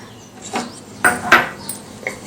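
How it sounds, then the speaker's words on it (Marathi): Sesame seeds dry-roasting in a pan while being stirred, giving a few sparse, close scrapes and light clinks of the spoon against the pan, with no talking. "एकसारखं हलवत आपल्याला हे तीळ छान खरपूस रंग येईपर्यंत भाजून घ्यायचे आहेत"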